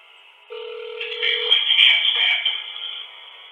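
A telephone line rings during a call, with a steady electronic tone starting after half a second, then warbling ringback and line tones that carry on for about three seconds, fairly close and clear, with no talk.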